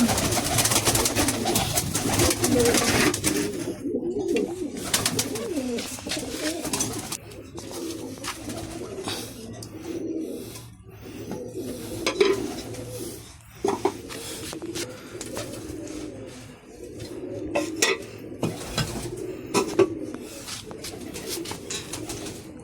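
Pigeons coo repeatedly outdoors, soft low rolling calls recurring throughout amid wing flutters and background rustle.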